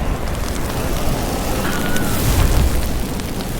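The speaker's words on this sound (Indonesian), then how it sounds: "akibat ledakan tersebut," A film explosion roars as a loud, sustained rumbling blast with dense low-end boom, swelling toward the middle and trailing off without a clear single impact.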